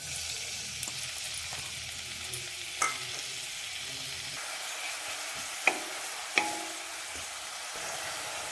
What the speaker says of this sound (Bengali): প্রথমে কড়াতে দিয়ে দেব সাদা তেল, এবার দিয়ে দেব পেঁয়াজ কুচি